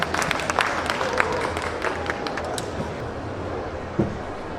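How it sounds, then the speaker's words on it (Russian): An audience at a design conference in Kyiv applauds as speaker Hilary Birkbeck takes the stage, with dense, steady clapping from many hands that gradually thins out, plus a few louder claps and scattered crowd murmur. "ваші аплодисменти для Hilary Birkbeck"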